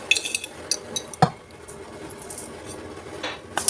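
A spoon clinks against a bowl while chicken powder, pepper, salt and sugar are stirred together, giving a few sharp light taps and chinks over faint scraping, close and quiet.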